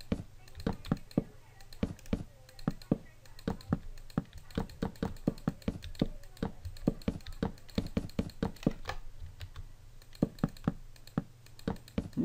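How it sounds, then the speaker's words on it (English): Rapid mouse and keyboard clicking while building a basic house in Mine-imator on a computer, close and steady in irregular bursts throughout, with no talking. "Sorry about it clicking if you can hear that."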